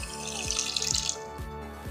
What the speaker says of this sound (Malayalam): 1 കപ്പ് വെള്ളവും ഞാൻ ഒഴിച്ചിട്ടുണ്ട്